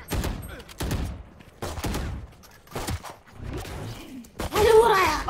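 Several distinct, sharp gunshots in a first-person shooter game, spaced about a second apart, each a loud crack with a short tail, followed by a brighter burst of noise near the end.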